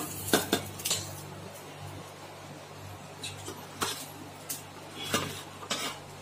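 Bread is lifted off a dosa pan and placed on a plate, with a handful of clinks and scrapes of a utensil against metal and crockery over a quiet steady hum.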